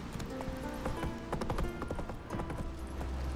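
Roach the horse running in The Witcher 3: Wild Hunt, hooves clip-clopping in a quick steady rhythm at close range, moderately quiet, with no talk over them.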